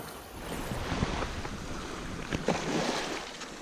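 Waves wash onto a beach under steady wind noise buffeting the microphone, a continuous broadband rush with a few slightly louder surges of surf.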